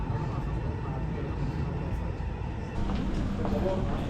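A tram passing in Dubai, heard as a continuous rumble and rolling rail noise that swells slightly partway through, with people talking over it.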